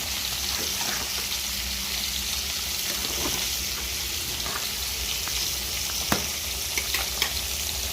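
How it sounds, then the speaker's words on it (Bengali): Spices with garam masala and ghee sizzle in a frying pan while a utensil stirs through them, a dense hiss running throughout with a few sharp clicks of the spoon against the pan near the end. "আর দেবো একটু গরম মশলা। ভালো করে নেড়ে দেবো।"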